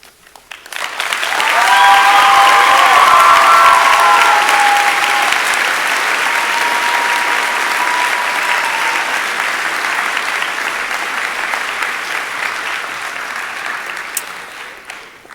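Graduation audience at Wilsonville High School breaks into loud, sustained applause that swells within two seconds, with a few whoops over the top early on, then holds steady for roughly fifteen seconds.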